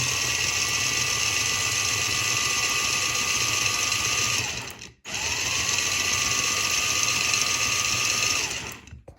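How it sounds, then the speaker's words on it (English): A steady mechanical whir of an engine running on a prototype control module, with a high whine rising and holding, cutting out briefly midway then returning before fading. "So the engine's on."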